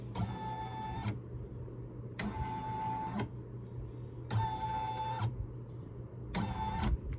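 Embroidery machine stitching a rooster design, four bursts of rapid high whirring stitching, each about a second long, separated by short pauses over a steady low motor hum, close and fairly loud.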